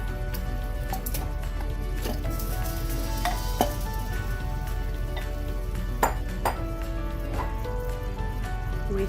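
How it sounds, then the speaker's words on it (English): Marinated beef hits a hot pan with tomatoes for a Kerala-style coconut beef gravy, giving a loud, steady sizzle throughout with occasional clinks and scrapes of stirring against the pan. "At this point, I'm going to add my marinating"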